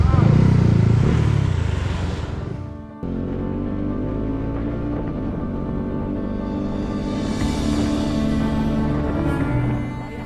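A Honda CB150X with a bored-up engine rides along the road, its steady engine drone and wind rush running continuously, louder at first and then settling to an even hum.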